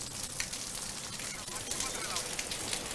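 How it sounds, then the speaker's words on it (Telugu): Heavy rain pours down in Hyderabad, a dense, steady hiss of drops striking surfaces that holds evenly loud throughout with no pauses. "హైదరాబాద్లో భారీ వర్షం ఉంటుంది."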